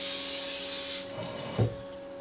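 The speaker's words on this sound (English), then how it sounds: "I'm going to just spray some spray oil on the inside of this" Spray oil hisses from a can into a cast iron Dutch oven, a loud steady spray lasting about a second, followed by a soft scrape and a brief knock as the can or pot shifts.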